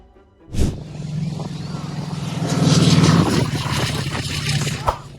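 A propeller airplane making an extremely rough, very low landing at Maho Beach, a sudden loud thump followed by a sustained engine drone that swells and fades, with a sharp knock near the end.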